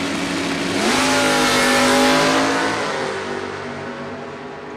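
Topless Corvette Roadster drag car at a door-car drag race, a loud close engine howl rising sharply as it launches, pitch climbing then fading as the car pulls away.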